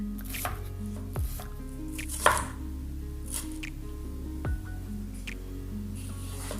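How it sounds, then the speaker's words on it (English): Several separate knife strikes chopping an onion on a cutting board, spaced irregularly, with soft squishy cuts and quiet pauses between them. "Let's chopping 1 onion"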